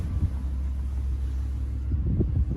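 Audi R8 V10 Spyder with S tronic gearbox and a Lamborghini-derived 5.2-litre V10, heard from inside while driving: a steady low engine and road rumble, close and even, with slight swells near the end.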